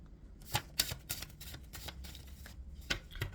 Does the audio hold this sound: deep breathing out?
no